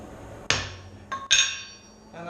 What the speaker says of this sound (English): Now when I bring it out this time, I'm going to use the face of the hammer